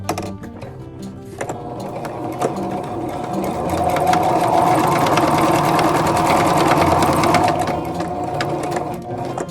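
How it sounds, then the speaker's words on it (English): A sewing machine stitches a pocket into a fabric tie-style face mask, running steadily and loudly for several seconds with a dense mechanical whir that swells slightly mid-run, with no talking. "I'm just going to sew in that little pocket."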